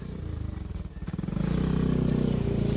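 Motorcycle engines rumble past on a street, first in pulsing bursts and then as a closer, louder steady drone that holds to the end.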